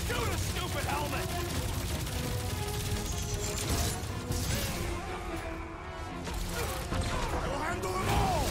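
Gunfire from a weapon aimed at a helmet in Marvel's Guardians of the Galaxy, a dense mix of shots, crashes and metallic impacts layered over steady game music and character voices.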